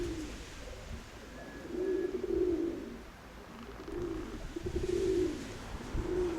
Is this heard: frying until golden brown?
no